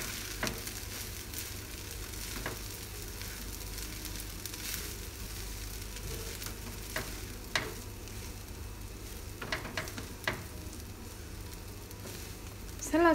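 Nasi goreng with sambal belacan and sesame oil being stirred in a pan with the stove off, giving a steady, faint sizzle with scattered scrapes and taps of the utensil, no voices.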